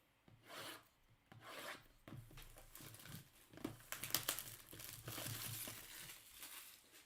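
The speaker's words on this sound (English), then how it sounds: "Let's rip some cards." Packs of Prizm Fast Break trading cards are torn open up close, giving quiet, uneven bursts of rasping, crinkling wrapper noise with short gaps between rips.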